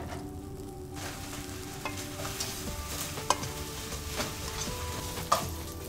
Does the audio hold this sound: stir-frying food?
yes